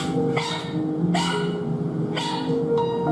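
Several dogs bark repeatedly from cages packed into a small house, sharp overlapping barks and yips arriving in quick bursts over a constant background of more dogs.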